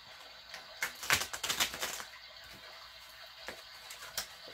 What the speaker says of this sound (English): I'm going to shuffle them really nice because it's the first time